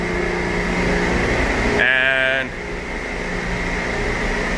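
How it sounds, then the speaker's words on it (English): Refrigeration compressor on a reefer container aboard a container ship deck, a close steady mechanical hum and drone, with a brief high whining tone partway through and a short spoken word. "That's a compressor running on one of the reefers right next to me."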